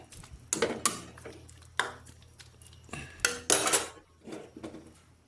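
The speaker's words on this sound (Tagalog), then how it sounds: "haluin natin itong ating pork" Pork being stirred in a metal cooking pot with a utensil, producing close, irregular clanks and scraping clatters in short bursts, with no talking.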